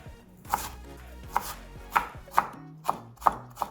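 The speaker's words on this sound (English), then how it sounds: "Then let's just chop them into small pieces." Knife chops vegetables into small pieces on a cutting board for Korean perilla leaf pancakes, seven crisp evenly spaced chops ringing out close and clear with no talk.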